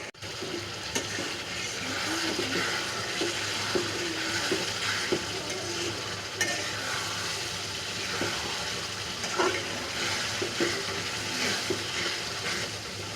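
Potatoes for an egg and potato curry fry in a pan, giving a continuous close sizzle with occasional clicks and scrapes of a spatula as they are stirred, with no talking.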